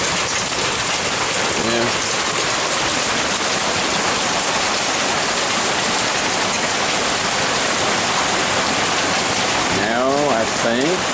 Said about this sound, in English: I think it's turning back into regular good old rain